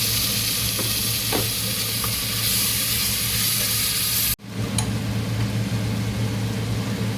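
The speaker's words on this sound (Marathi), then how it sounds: "कांदा छान भाजलेला आहे. किसलेले टमाटर टाकते." Grated tomato hits fried onion in a hot pan, giving a loud steady sizzle with occasional stirring scrapes. A brief dropout midway is followed by the same close, continuous frying hiss.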